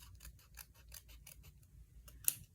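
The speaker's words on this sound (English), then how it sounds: "So I'm going to cut that off." Scissors snipping through card paper, a series of quick close crisp cuts about every third of a second, ending with a sharper snap, with no speech.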